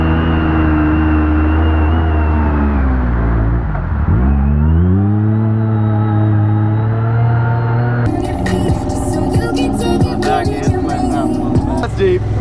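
A side-by-side UTV engine revs and drones loudly while digging a hole, pitch dipping and then climbing again as gas is applied, with a rough, throbbing churn taking over near the end.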